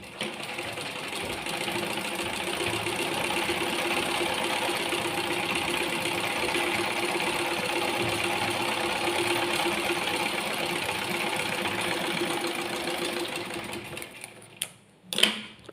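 A sewing machine stitches a top stitch with a steady, moderately quiet whirring hum for about fourteen seconds, followed by a few clicks and handling knocks as it stops.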